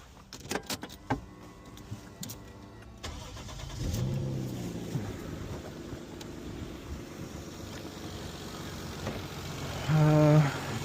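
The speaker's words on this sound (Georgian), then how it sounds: "ეხლა მოგესმენთ ძრავი როგორ მუშაობს" A Toyota 2JZ engine in a Lexus GS300 cranks and starts partway through, then settles into a steady mid-pitched idle close by, with a short louder rev near the end; a few clicks and knocks come before the start.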